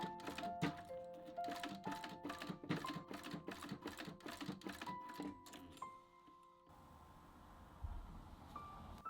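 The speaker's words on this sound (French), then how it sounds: "je viens coudre le passant à la machine à coudre." A sewing machine stitches the loop onto a leather bracelet in a close, steady series of rhythmic thumping stitches, then stops abruptly, leaving a quiet room with a faint thud.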